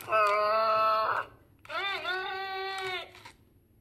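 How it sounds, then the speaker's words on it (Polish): A Furby Boom toy makes a playful electronic fart noise when its tail is pulled, heard as two close, warbling, voice-like tones with a short gap between them, with nobody else talking. "Dobra, to był dźwięk pociągnięcia za ogon"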